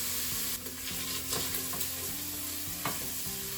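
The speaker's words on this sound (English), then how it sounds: "Now we just want to give that a stir, just to coat the bacon in the butter. And giving that a few minutes just to cook." Bacon cooking in butter inside a pressure cooker, a soft continuous sizzle with a few scraping stirs of a utensil, close and fairly quiet with no talk.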